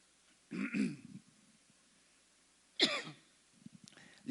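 A person clears their throat and coughs in two separate bursts, with a quieter rough catch near the end and stillness between.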